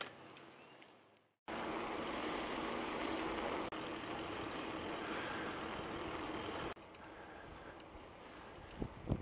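A Winnebago Travato campervan drives toward the beach at Fort Clinch State Park, a steady road and engine rumble that cuts in abruptly after a short quiet gap, shifting tone twice before easing near the end.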